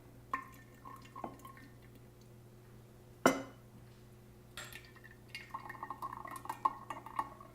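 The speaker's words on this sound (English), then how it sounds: "pour a little bit of the culture that we had made the previous time" Kefir culture is poured into glass jars: a few soft drips and clinks, one sharp glass knock, then a trickling pour with small splashes.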